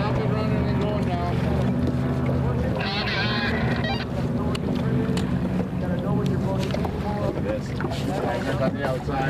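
A race boat's engine runs on the water, a steady droning hum mixed with wind buffeting the microphone, with people talking throughout.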